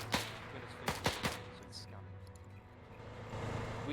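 Gunfire in a WWII French Resistance campaign shooter game: three sharp, close rifle shots in quick succession, then fainter battle noise and engine rumble beneath a low game soundscape.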